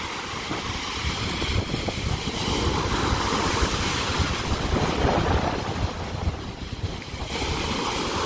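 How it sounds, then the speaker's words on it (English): Big waves crash steadily onto a lake shore at Presque Isle on a windy day, a dense continuous roar of surf mixed with gusty wind buffeting the microphone, with no talking. "those are some big waves"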